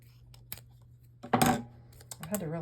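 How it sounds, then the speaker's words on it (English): Non-stick adhesive scissors snipping during card-making: a few soft, sharp cuts and small clicks in a quiet room, with a louder burst of handling noise in the middle. "Grab my adhesive scissors."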